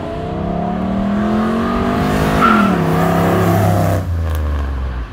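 An LS V8-swapped Mercedes car engine drones as it drives, rising in pitch under acceleration with a brief tire chirp, then settling to a lower rumble.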